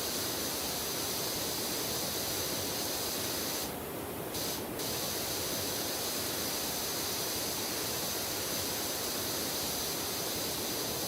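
A pressure washer in Powerwash Simulator gives a loud, continuous, steady hiss of water spray that runs throughout, with a brief dip partway through.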